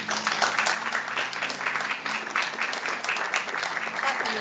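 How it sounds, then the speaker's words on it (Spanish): A crowd at a diocesan church assembly applauds steadily, dense clapping filling the space at an even level without pause. "Fuerte el aplauso."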